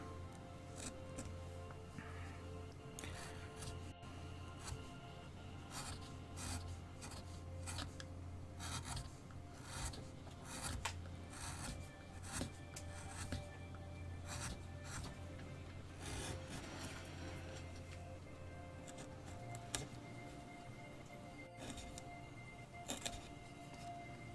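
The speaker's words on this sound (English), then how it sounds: "Oops, that gouge is a bit blunt." A blunt gouge carves into the wood of an owl figure, giving steady scraping, rasping strokes with scattered sharper cuts, close by and continuous, with no talking.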